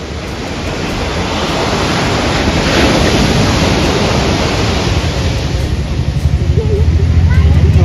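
Roaring sea waves crashing on a beach where a man catches fish and crabs in the surf, a loud continuous rushing wash that swells and holds, with wind buffeting the microphone.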